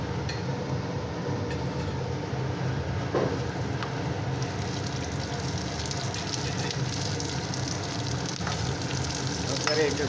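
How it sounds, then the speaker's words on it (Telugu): Ingredients for a peanut and chili chutney fry steadily in hot oil, a continuous close sizzle and crackle with faint speech underneath throughout. "ఇవన్నీ వేసి ఫ్రై చేసి చట్నీ చూపిస్తాను అన్నమాట"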